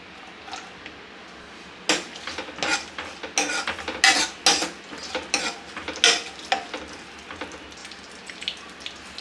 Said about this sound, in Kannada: ಮೊದಲು ಒಂದು ಪ್ಯಾನ್ಗೆ ತುಪ್ಪ ಹಾಕ್ಕೊಂಡು ಇದಕ್ಕೆ ಡ್ರೈ ಫ್ರೂಟ್ಸ್ ಹಾಕಿ ಫ್ರೈ ಮಾಡ್ಕೊಳ್ಳೋಣ